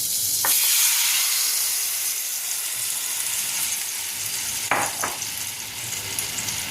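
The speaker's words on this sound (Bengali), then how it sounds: "এবার যে গ্রেভিটা আমি তৈরি করেছিলাম সেই গ্রেভিটা পেস্টটা আমি দিয়ে দিলাম।" Gravy paste added to hot butter in a pan for Bengali-style chicken butter masala sizzles loudly and steadily at close range, with a couple of brief spoon scrapes breaking through the hiss.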